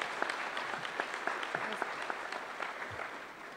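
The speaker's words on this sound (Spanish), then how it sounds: "Un aplauso también para Susana y para Kratos." Audience at a university business school's student induction event claps steadily, a dense patter of hand claps lasting a few seconds without any voices over it.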